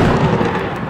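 Thunder rumbling ahead of an approaching storm on a trophy ranch, a loud, continuous low roar that fills the whole moment with no voices.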